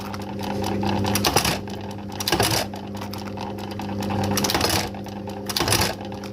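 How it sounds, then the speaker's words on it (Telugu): A sewing machine attaching buttons to pants runs in close bursts of rapid mechanical clatter, pausing briefly between stitching runs about four times, with a steady motor hum underneath and no talk. "ఇప్పుడు మీరు చూస్తున్నది నేను ప్యాంట్స్ కు బటన్స్, హైలైట్స్ వేస్తున్నాను"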